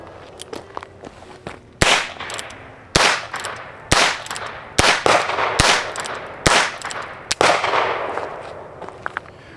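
Heritage Barkeep .22 single-action revolver firing rimfire rounds, about eight sharp loud cracks spaced roughly a second apart, with faint handling clicks between shots and no talking.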